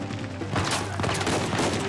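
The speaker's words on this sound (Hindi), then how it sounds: "उधर से गोलियां पड़ रही हैं, लेकिन बहुत दूर है वो लोग।" Rapid volleys of gunfire in Uncharted 4: A Thief's End crackle continuously over a steady background hum, sounding somewhat distant rather than right up close.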